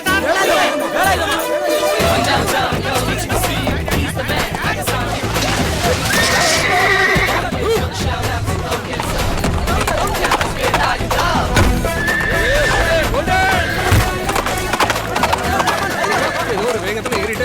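A horse neighs and whinnies loudly while hooves clip-clop on a street, mixed with busy crowd chatter and people talking throughout.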